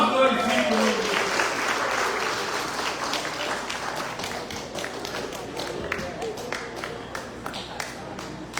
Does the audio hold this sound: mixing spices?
no